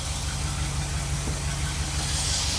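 A small, stock car engine runs steadily at a smooth idle, a constant low hum with no voices.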